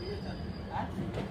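Train pulling into Lumding station on the Kamakhya–Mariani line, with a steady low rumble of carriages and faint wheel squeal, close and continuous over a brief stretch, with a voice talking over it.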